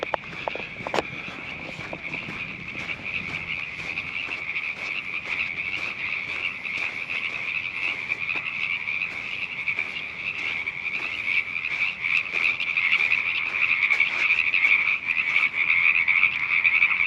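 A dense chorus of frogs croaks steadily and continuously outdoors at Mojave Narrows, a shrill, pulsing drone that grows slightly louder over time, with faint footsteps underneath.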